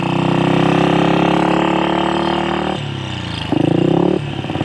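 A 1966 Royal Enfield Continental GT 250 single-cylinder motorcycle on a 5-speed gearbox revs up loud and close, then drops pitch as it shifts up through gears on a ride around town.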